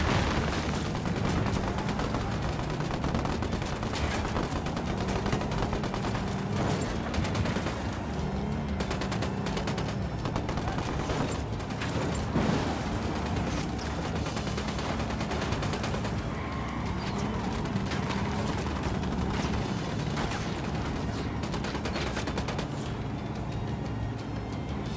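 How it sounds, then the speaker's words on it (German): Sustained enemy gunfire in Ghost Recon Wildlands, with rapid automatic bursts and scattered shots crackling continuously over a busy battle din. "Sicarios schießen auf uns."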